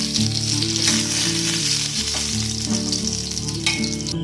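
Pointed gourd (potol) pieces fry in oil over a medium flame, giving a loud, steady sizzle that carries on without a break, with a few faint clinks of stirring scattered through it.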